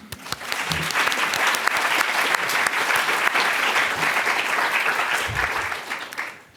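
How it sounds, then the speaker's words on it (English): An audience applauds a panel at a talk on religion and the novel: dense, sustained clapping from a sizeable crowd, close and full, fading away at the end. "give some applause for our panel"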